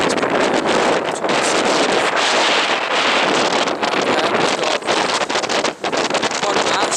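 Strong wind sweeps across a Dartmoor hilltop above Tavy Cleave and batters the microphone with a loud, continuous roar and rushing gusts, with no let-up.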